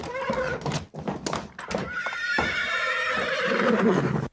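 A horse whinnies loudly and repeatedly in a bar, with clip-clopping hooves mixed into a close, continuous stretch of sound lasting about four seconds.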